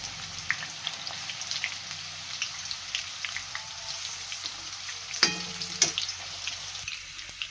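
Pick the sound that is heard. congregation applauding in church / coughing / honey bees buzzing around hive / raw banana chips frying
raw banana chips frying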